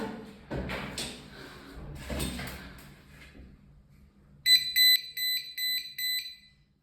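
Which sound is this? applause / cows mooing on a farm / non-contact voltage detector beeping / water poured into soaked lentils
non-contact voltage detector beeping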